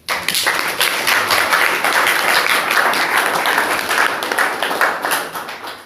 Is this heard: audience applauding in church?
yes